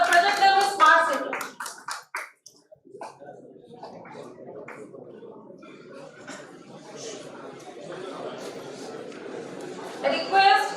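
Applause from an event audience for prize winners at a university project expo valedictory ceremony, a dense wash of clapping that swells at the start, settles into a steady patter and rises again near the end.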